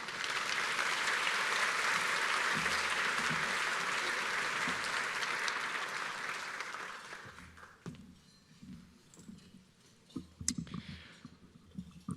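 Audience applause at a county quality and productivity awards ceremony, sustained full clapping for about seven seconds that then thins out into scattered claps and small clicks and rustles.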